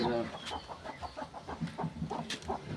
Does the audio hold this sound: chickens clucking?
yes